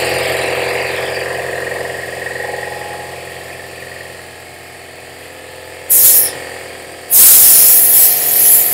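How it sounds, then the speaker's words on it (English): An air compressor runs steadily in a workshop with a low mechanical hum throughout, joined near the end by two short, loud bursts of hissing air. "So let me turn the compressor on."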